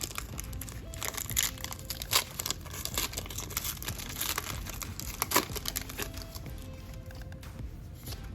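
A Pokémon Sword and Shield booster pack wrapper is torn open, with close, continuous foil crinkling and sharp crackles, several louder tearing snaps and small rustles, and no talking over it.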